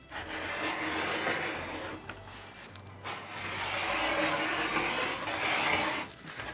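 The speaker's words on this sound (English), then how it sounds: "I'm going to cut the rest of these at 2 inches wide so that I get 2 strips at a time." Canvas fabric being cut into 2-inch-wide strips for apron bias tape binding, with rough scraping cutting strokes in long bursts, close and fairly loud, separated by short pauses, no talking.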